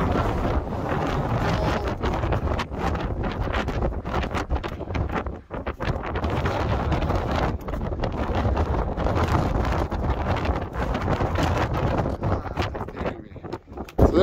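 Strong gusting wind on the summit of Ben Vorlich in the Arrochar Alps, a roaring, buffeting rush that batters the microphone without a break and swells and dips in strength.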